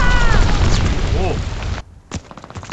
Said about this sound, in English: That glide bomb hurts, man.